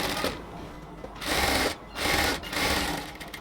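A sewing machine runs double stitching on a luxury cotton dress, whirring in three short, loud bursts close to the microphone with brief gaps between them.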